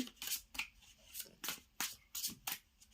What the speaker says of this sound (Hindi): लास्ट शफल करूंगी अब मैं